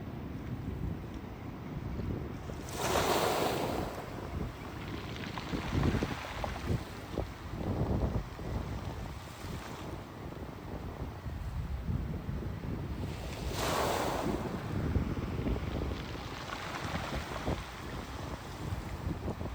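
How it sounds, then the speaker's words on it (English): On the rocky shore at Cape Agulhas, ocean waves break and recede over stones in a loud, continuous roar. Two stronger surges can be picked out, and wind buffets the microphone throughout. "I'm going to let you hear when a wave breaks and recedes. Listen to the sounds of the stones."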